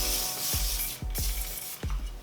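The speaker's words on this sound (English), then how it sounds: "I'm gonna go ahead and add a little bit of the Kenra spray." Kenra hairspray hisses onto curled hair in repeated bursts, a broad airy spray sound interrupted by three short clicks of the nozzle, close and loud.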